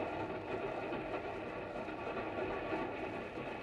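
A westbound train runs steadily in a radio drama effect, a continuous rumbling rattle of wheels and carriage with a faint rhythmic clatter, held at an even level with no talk.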